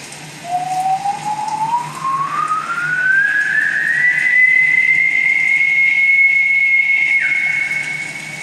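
One long human whistle rises steadily in pitch, then holds a clear high note before dropping slightly at the end, loud and alone.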